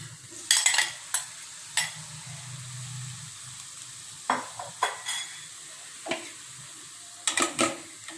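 Chopped tomatoes sauté with salt in a pan for paneer butter masala, a soft steady sizzle broken by distinct close scrapes and clicks of a spoon stirring at irregular intervals, with no one speaking.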